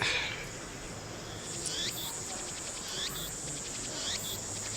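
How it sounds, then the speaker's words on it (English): Cicadas drone and chirp in the ambient soundscape of the visual novel game Steins;Gate, a faint, steady insect buzz with repeated rising chirp phrases pulsing every second or so, alone without talk. "anyone knows how to separate the cicadas noise"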